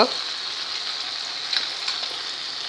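Red spice masala fries in a pan on a low flame for pav bhaji, giving a steady, close sizzle that holds evenly throughout with a couple of slightly louder crackles.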